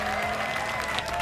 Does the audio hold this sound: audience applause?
yes